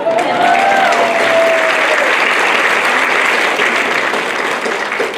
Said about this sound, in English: the grade 5 should do a round of applause for their parents